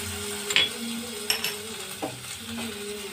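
Chopped garlic, grated ginger and green chili fry in a pan with a soft, steady sizzle, broken by a few scraping stirs of a spoon against the pan.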